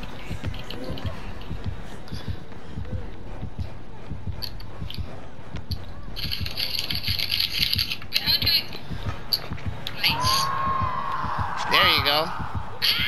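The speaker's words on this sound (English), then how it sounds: "Do you hear the heartbeat?" In Dead by Daylight, the killer's terror-radius heartbeat thumps steadily as a low, rhythmic pulse. Game effects and voice chat talk run over it.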